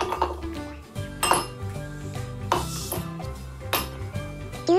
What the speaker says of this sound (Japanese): 氷の音ってなんかいいよね。